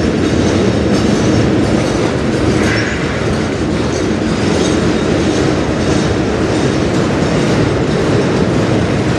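A CN freight train rolls past on the Strathroy Subdivision, a loud, steady roar of wheels and rail cars with faint clickety-clack and brief wheel squeal, continuous and close throughout with no voices.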